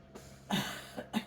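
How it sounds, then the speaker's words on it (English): A few short, breathy coughs close by from a patient during a neuro physiotherapy session, one faint, then a louder burst and a smaller one at the end. "It's okay if you cough."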